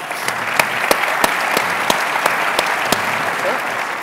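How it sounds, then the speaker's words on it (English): Audience applause closes a sports business analytics panel at a conference, a steady, even wash of many hands clapping with a few sharper claps standing out, moderately loud and continuous throughout. "let's give a big round of applause"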